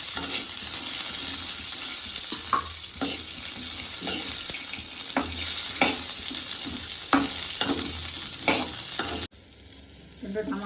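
Frying in a pan before paneer goes in for crispy guntapoganalu, a strong steady sizzle with repeated stirring scrapes and clinks that cuts off abruptly near the end into quieter background.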